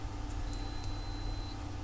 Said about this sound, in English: the beeps of doom